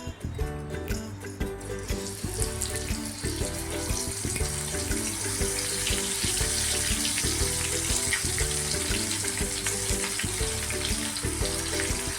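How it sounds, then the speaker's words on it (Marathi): Steady bubbling and crackling of banana chips frying in hot oil over a low flame, a continuous busy sizzle with a low rhythmic undertone, close and fairly loud throughout. "आपण आता स्लो गॅसवरच तळूया"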